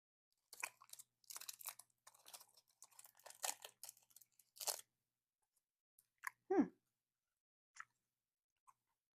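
Someone crunches and chews green apple allergy-friendly travel candy close up, a quick run of wet crunchy bites followed by a few sparse, isolated chews and a short mouth sound, with no talking.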